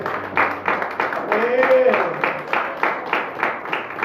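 A church congregation claps in a steady rhythm while a preacher speaks loudly over it, the clapping a crisp, regular patter beneath his voice.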